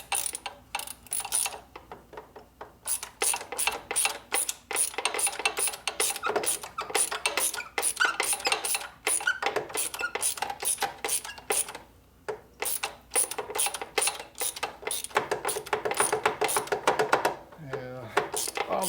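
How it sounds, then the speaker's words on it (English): A ratchet tightens a starter motor bolt on a Harley with an S&S 113ci Evo engine, clicking in rapid, close bursts with brief pauses between long runs. "so now I can lift the starter up into the hole and tighten it up"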